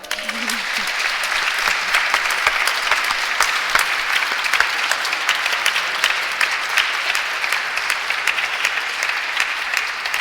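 Sustained, loud applause from a theatre audience at an amateur play in Ghlin, many hands clapping close and dense, with a brief voice at the very start.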